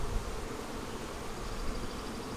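Krynock honey bees drone continuously inside an open hive during a post-harvest split, a dense, steady buzzing heard close up with no voices.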